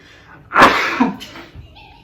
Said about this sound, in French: ça me fait éternuer